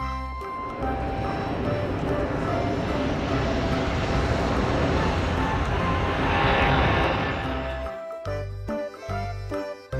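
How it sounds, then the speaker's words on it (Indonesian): A loud, sustained roar of an airplane passing close, swelling and then fading away, followed by scattered clinks and background sounds. "Pesawat."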